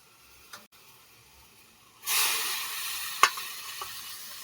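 Water splashed into a hot karai on a gas stove for boiling drumstick leaves, setting off a sudden loud hiss and sizzle that swells and holds, with a faint clink near the end.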